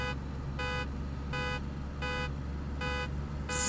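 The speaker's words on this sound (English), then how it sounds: "Sound like me car alarm going off, doesn't it?" A car horn in the video game DayZ beeps in a steady, evenly spaced rhythm like a car alarm, about six loud electronic blasts over a low engine rumble.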